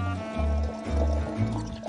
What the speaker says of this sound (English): I pour some just boiled water into my watering can.